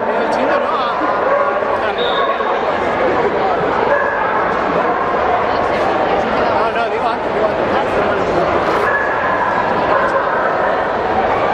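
Dogs bark and yip repeatedly at an indoor Spanish agility championship, echoing through the arena under steady crowd noise and a continuous wash of background chatter.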